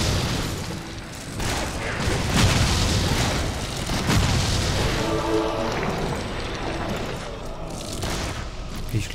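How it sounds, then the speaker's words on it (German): Explosive shot skill firing in the action RPG Torchlight, a run of loud booming bursts and blasts over busy combat noise, with a voice speaking in places. "Ich bleib bei dem Explosionsschuss"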